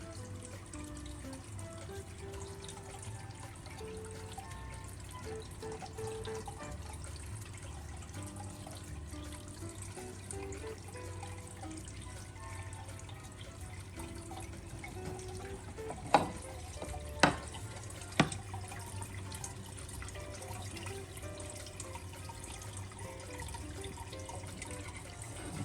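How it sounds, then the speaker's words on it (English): Gardyn Home 4.0 indoor hydroponic system cycling water, a steady moderate trickle and gurgle of flowing water running continuously, with a few brief clicks near the end. "it's going through its water cycle"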